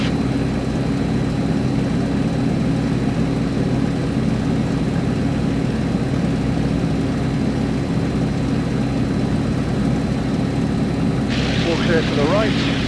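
A light aircraft's engine drones steadily and loudly, heard from inside the cockpit as it rolls down the runway. The low, constant rumble continues unbroken, with brief faint sounds near the end.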